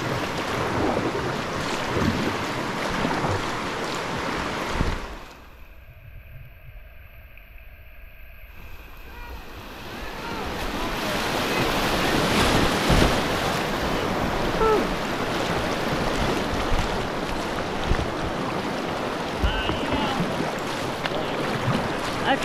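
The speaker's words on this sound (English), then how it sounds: "the next one's just gonna be some fun waves" Paddling upstream on a river, rushing waves and turbulent water wash loudly and continuously with wind buffeting the microphone, broken by a few seconds of near quiet before the churning water returns stronger.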